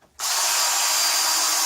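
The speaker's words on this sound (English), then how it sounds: "I've just put it in this drill" Power drill spinning a tiny piece of wooden dowel for sanding while making a wooden pipe, starting abruptly and then holding a loud, steady high whine close by.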